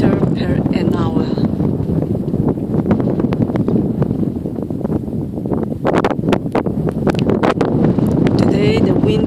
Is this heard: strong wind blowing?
yes